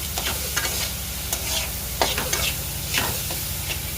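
Meat frying in a pan for a dog, with steady close sizzling and crackling throughout and intermittent stirring scrapes and pops.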